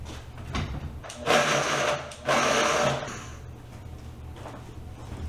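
A food processor pulses graham crackers into crumbs in two bursts of about a second each, loud and close, with quieter handling noise before and after.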